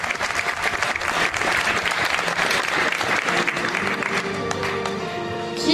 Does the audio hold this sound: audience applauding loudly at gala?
yes